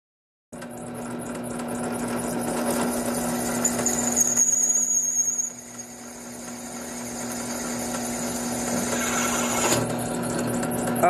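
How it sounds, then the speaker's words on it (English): A drill press bores a hole through a thrift store plant pot, its motor whining steadily and loud for about ten seconds, pitch dipping briefly midway as the bit bites in. "I finished drilling these few just for the demo purposes"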